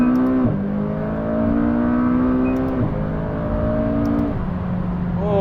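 A McLaren 570S accelerates hard with its wheels spinning. The engine note climbs loud and close, drops briefly at each gear change and rises again, with no talking.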